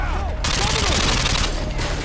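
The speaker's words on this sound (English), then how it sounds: "We're taking heavy fire over here" Heavy automatic gunfire from a Call of Duty Modern Warfare 2 firefight, loud and close, with dense overlapping bursts and shots rattling continuously for the whole stretch, a voice faintly underneath.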